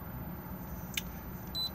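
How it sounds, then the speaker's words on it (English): A faint click followed by a short, high electronic beep from a control panel, soft against a quiet background hum. "Key beeps on and off."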